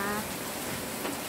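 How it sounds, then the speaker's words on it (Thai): Heavy rain pours down in Pattaya, Thailand, a dense, steady hiss of falling water close by, with a voice faintly present underneath. "นี่ก็มาถ่ายบรรยากาศฝนตกให้ดูนะคะ"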